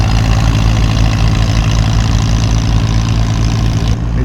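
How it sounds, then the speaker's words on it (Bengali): Small fast boat's engine passing close on a mangrove waterway in a Cambodian village, a loud steady low-pitched motor drone that barely changes over a few seconds. "এটা ছোট বোট গেল, কম্পারেটিভলি সাইজে অনেক ছোট,"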